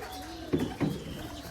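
Pigeons in a keeper's loft give two short low coos, close by, over a faint background hum.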